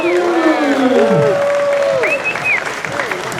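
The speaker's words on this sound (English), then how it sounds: "please combine your applause for all 3 of them." An audience on a cruise ship applauding, with whoops and rising-and-falling cheering voices over the steady clapping.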